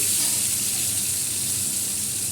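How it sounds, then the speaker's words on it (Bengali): Potatoes and tomatoes frying in oil with black cumin seeds, a steady, dense hiss of sizzling that stays even and close throughout, with no voices. "এই আলুটা কালো জিরা ফোড়ন দিয়ে আলু আর টমেটোটা একটু ভেজে নিই"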